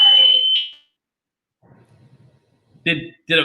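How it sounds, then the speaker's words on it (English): A shrill smoke alarm tone sounds at the start, then near silence with faint low rumbling before loud bursts of talk or commotion at the end. "someone set off a smoke alarm"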